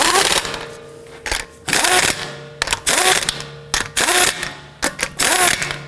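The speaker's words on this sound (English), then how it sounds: "Let's now go ahead and torque down our lug nuts to 76 foot-pounds." Rapid bursts from an impact or torque wrench tightening lug nuts on a Toyota Camry wheel, five or six loud rattling bursts separated by short pauses, close and sharp.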